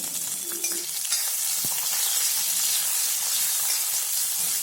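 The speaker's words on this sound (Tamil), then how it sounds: "இது கூடவே 4-5 சின்ன வெங்காயம், 5-6 பல் பூண்டு, 1 துண்டு இஞ்சி சேர்த்து அதையும் நல்லா வதக்கிக்கோங்க" Shallots, garlic and ginger frying in a pan for a parotta side dish, giving a steady, close sizzle with a hiss that carries on with no break and no voices.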